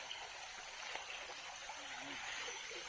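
A stream of clear water flowing, a steady soft rushing and trickle at low level, continuous throughout.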